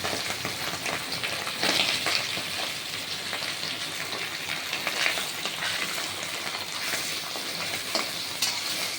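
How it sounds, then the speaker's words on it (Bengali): Pabda fish coated in flour sizzle and crackle steadily in oil in a very hot wok, giving a dense, continuous frying hiss heard up close with no talking. "এবার আমি ছেড়ে দিলাম দেখছেন তো কীরকম ফুটছে"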